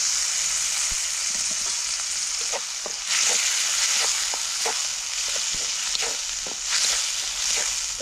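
Garlic and ginger sautéing in a pan: a steady broadband sizzle runs throughout, with light scraping stirs tapping at irregular intervals, close and moderately loud, no talk.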